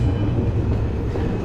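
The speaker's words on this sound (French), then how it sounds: "Et on va prendre notre métro." A Tokyo subway train runs with a steady, loud low rumble and hiss throughout, with no voices heard.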